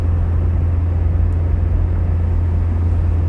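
Steady engine and tire rumble from a car cruising at about 40 km/h along the Gutters main road near Pepper and Goshen, St. Elizabeth, a continuous low drone from inside the vehicle with no talking.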